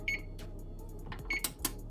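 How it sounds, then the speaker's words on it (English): An oven's control panel gives two short, thin electronic beeps about a second apart as the temperature is set, alongside faint button clicks and a low kitchen hum. "I'm gonna set my oven to 350."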